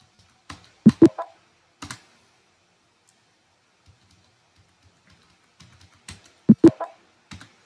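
Keys are pressed on a computer keyboard while working in Tally Prime accounting software: sparse, sharp, close clicks in small clusters of two or three strokes separated by quiet gaps, with no talking.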